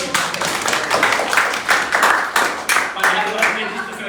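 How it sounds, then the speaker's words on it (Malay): Scattered clapping from an audience at a business talk, uneven bursts of claps close by mixed with some voices. "bagi tepukan dulu."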